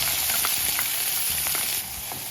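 Onions sautéing in olive oil with cumin seeds give a steady close sizzle and crackle, broken by a few soft stirring scrapes, with no voices.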